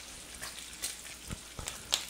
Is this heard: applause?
no